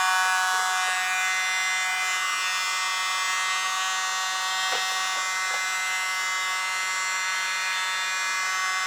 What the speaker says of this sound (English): Little blower.